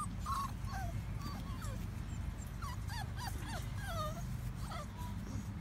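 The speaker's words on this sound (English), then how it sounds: "Puppies all playing." A litter of puppies plays outdoors in a yard, giving high whimpers, squeaks and yips scattered throughout over a steady low background rumble.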